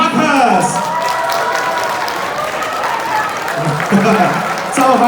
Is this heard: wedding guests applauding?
yes